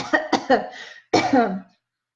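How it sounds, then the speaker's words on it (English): Three quick dry coughs in a row, then a short pause and one longer harsh cough, close and clear with no wet rattle. "So this is a dry cough."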